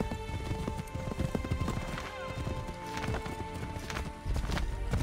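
Horse hooves clip-clopping in Assassin's Creed 3, a steady galloping rhythm with an occasional whinny, mixed with game music and effects.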